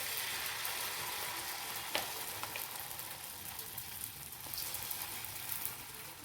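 Egg batter poured into a hot pan for a breakfast dish spreads into a soft, even, continuous sizzle like light rain, with one faint tap of a utensil.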